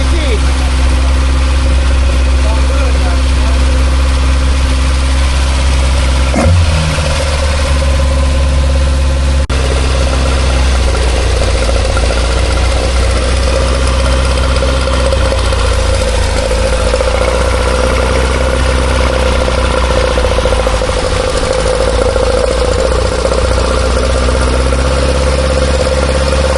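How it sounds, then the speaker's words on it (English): A tuned car engine idles loudly and close for the whole stretch, a dense steady rumble with a brief blip of revving partway through, while people talk over it; its note is likened to a two-stroke Kawasaki triple motorcycle. "Sounds like a Kawasaki 3GT."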